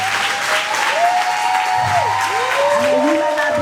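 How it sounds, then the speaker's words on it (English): Applause and crowd noise at a cancer awareness line dance event, with a tonal, gliding sound and voices running over the clapping. "just give them a round of applause"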